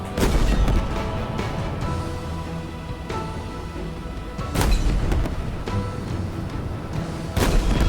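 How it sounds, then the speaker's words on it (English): Gunfire in Halo Infinite during a campaign mission on the road, with loud sustained shots, booms and explosive blasts rolling through a busy battle, sharp bursts near the start, middle and end. "Just firing over there just in case there's somebody there."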